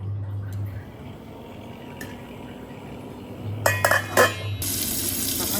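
A kitchen tap is opened to rinse vegetables, giving a thin splash of running water with clinks of dishes and a short burst of spray. Quiet drips come first, and a low hum sits underneath.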